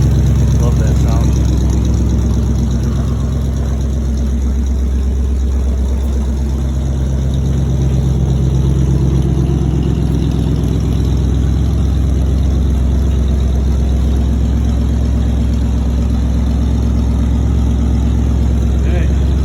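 A 1979 Dodge Li'l Red Express with a Thermoquad carburetor idles steadily after its first start in six months, a loud, continuous low rumble throughout.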